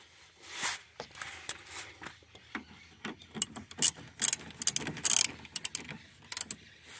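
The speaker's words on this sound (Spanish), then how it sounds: "Ahora estoy aflojando acá la tuerca que va en la violeta" Ratchet wrench loosening a nut on the worn suspension control arm of a Fiat Tipo, with sporadic clicking bursts and metallic rattles that grow louder and more frequent partway through.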